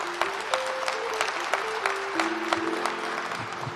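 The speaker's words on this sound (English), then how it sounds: "I want you to give her another big round of applause" Applause from an audience at a Law Day event, a steady wash of clapping throughout with faint tonal sounds underneath.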